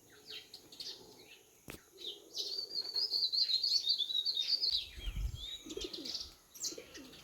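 Small birds and pigeons waiting for grain on a rooftop on a peaceful mountain morning give soft cooing and a run of bright, rapid chirps, faint to moderate with light rustling and shuffling beneath.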